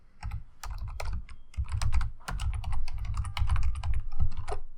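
Rapid typing on a computer keyboard while entering a short text line in photo-editing software, with steady, dense key clicks close up and no speech.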